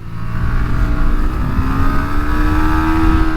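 Yamaha MT125 or R125 motorcycle engine from 2023 downshifting into second gear before a hairpin, a loud close buzzing engine note with a rising drone as revs climb, no voices.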